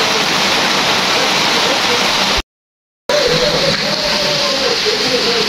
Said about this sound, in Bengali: আজকে আমাদের ব্রাহ্মণবাড়িয়াতে প্রচুর পরিমাণে বৃষ্টি হইতেছে।